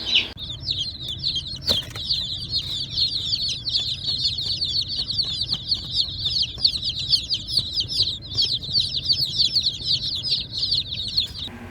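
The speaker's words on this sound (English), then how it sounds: "More than 50 baby chicks." Dense, continuous high-pitched peeping from a brood of more than fifty Welsummer baby chicks, many overlapping chirps close by with a low background hum and no talking.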